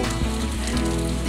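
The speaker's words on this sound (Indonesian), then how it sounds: "posisi lagi hujan" Steady rain falls as a dense, loud, continuous hiss with a low rumble beneath it, unbroken for the whole stretch.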